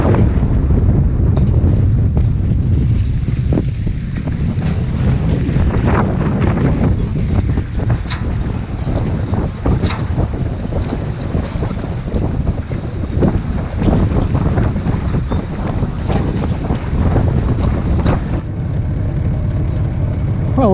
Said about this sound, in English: So it's blowing 30 knots now